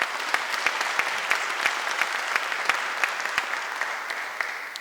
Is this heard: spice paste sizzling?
no